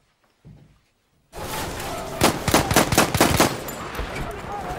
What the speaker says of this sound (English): There's someone shooting me!